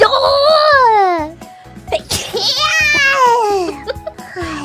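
A quick, sharp sneeze from a young, high-pitched voice, set among squeaky, swooping vocal sounds and giggly chatter.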